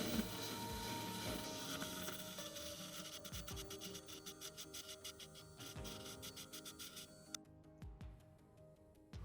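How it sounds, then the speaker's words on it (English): A TBK grinding machine grinding down an iPhone logic board, a faint steady abrasive whir with rapid rhythmic rasping pulses that stop near the end, close up and without talking. "Grinding through that should get us down to the solder pads on the flex."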